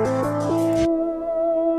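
A synth melody from the Tronix instrument plays through an auto filter whose frequency is automated to sweep open, with delay over the top; bright, busy tones cut off abruptly, leaving a sustained tone and a ringing echo tail alone.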